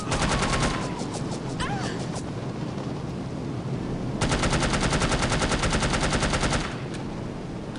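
Rapid automatic gunfire in No One Lives Forever, two loud sustained bursts of machine-gun fire separated by quieter scattered shots and ricochet-like whines, with no talk.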